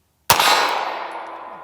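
A CZ P-09 C Nocturne pistol fires a single loud, close double-action shot, and a steel target rings with a long, fading clang right after it.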